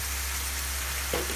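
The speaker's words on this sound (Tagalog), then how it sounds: "Kapag nag-dry na, sige lang, halo." Igado, pork and liver, is stir-fried in a pan, giving a steady, close, continuous sizzle with a brief stirring scrape near the end and no voice.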